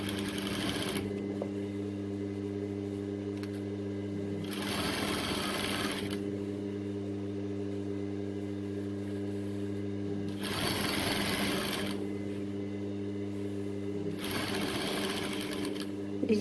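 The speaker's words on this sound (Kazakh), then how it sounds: "Енді резинкамыздың үстінен емес, жанынан тігіп шығамыз." Sewing machine stitching beside elastic on fabric, running in four bursts of rapid mechanical chatter against a steady electric hum, close and moderately loud, with no talk.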